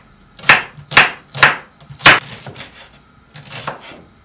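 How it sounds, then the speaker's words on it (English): A knife dicing chickpeas on a cutting board, four sharp, evenly spaced chops up close, then a few softer, quicker cuts. "We're just going to give it a good dice."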